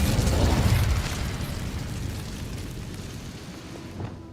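Incendio fire spell cast in Hogwarts Legacy, a loud whooshing burst of flame at the start that roars and slowly fades, with a small pop near the end.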